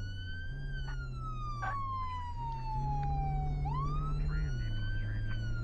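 Police car siren from the Flashing Lights video game, a loud wailing tone that sweeps slowly down and then jumps back up over a steady engine drone, heard alone.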